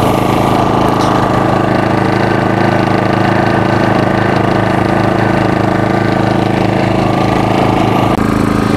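A portable petrol generator runs continuously nearby, its engine droning loud and steady at a smooth, even idle-like pace with a low mechanical hum and no speech over it.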